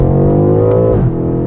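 A BMW M5's engine roars loudly at close range, its pitch climbing steadily in second gear before dropping briefly as it shifts.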